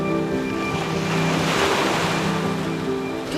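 Ocean waves wash onto a trash-strewn Manila Bay beach in the Philippines, a loud continuous surf roar with wind buffeting the microphone and no voices.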